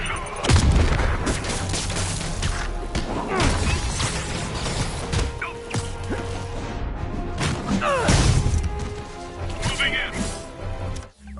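A grenade blast in a Spider-Man video game, heavy booms and crashing impacts repeating amid dense combat noise, with loud bursts near the start and again around the eight-second mark, backed by game music and voices.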